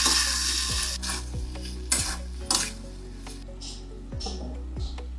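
Mashed taro stirred and fried on a low flame in a pot, a soft background sizzle under a few sharp metal scrapes and knocks of a spoon, near and clear, with no talking.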